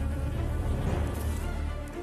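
Japanese honeybees buzz in a dense swarm, a steady low droning hum sustained throughout at moderate loudness, close and without talk.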